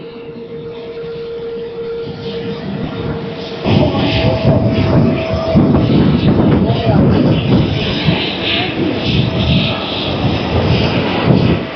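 Steady engine roar fills the cabin of a Turkish Airlines plane in flight to Delhi, a broad continuous drone that swells louder partway through and holds, with no talk over it.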